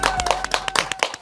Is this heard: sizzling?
no